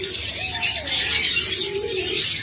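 Pet cage birds such as budgerigars, lovebirds and diamond doves calling, with a clear drawn-out coo over a dense background of chirps and twitters.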